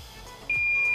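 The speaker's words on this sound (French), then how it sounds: "je vais mettre en bip de continuité" A multimeter in continuity mode starts a steady, clear beep halfway through while probing a Dell Optiplex 390 power supply coil, with faint background noise.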